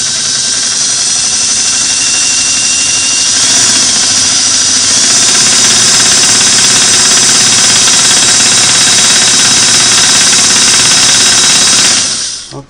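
A Singer Model 338 sewing machine runs at about 900 RPM with a new needle bar fitted. It gives a loud, steady, close mechanical whir and clatter that stays smooth and constant for about twelve seconds before stopping abruptly.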